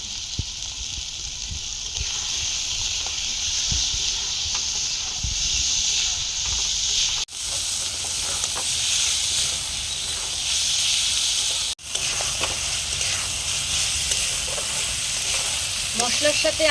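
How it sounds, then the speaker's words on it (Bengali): Potatoes being stirred and fried in oil with softened onions and spices for a Bengali bhola fish curry, giving a steady broadband sizzle with occasional scraping stir sounds, continuous and fairly loud throughout. "এবার আমি আলুগুলো দিয়ে ভালো করে একটু কষিয়ে নেব।"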